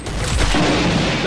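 A gunshot in the Roblox Arsenal video game gives a brief, loud, booming blast of game audio with no voices.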